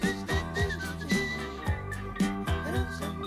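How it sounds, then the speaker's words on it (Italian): Melodic human whistling in a live 1978 concert song performance, a bright wavering tune of short repeated phrases over steady instrumental accompaniment, close and clear. "e comincio a fischiare"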